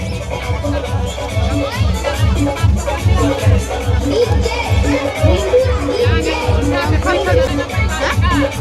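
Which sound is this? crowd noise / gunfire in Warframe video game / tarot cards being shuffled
crowd noise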